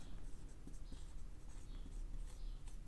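Pen scratching on paper while working a single-column cash book accounting problem, a close, steady run of soft scraping strokes with small pauses between them.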